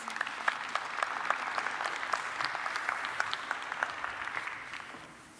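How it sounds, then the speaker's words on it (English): An audience at an African Union panel session claps steadily for several seconds, a full crowd applause that gradually tapers off at the end. "Can we give her a round of applause, please?"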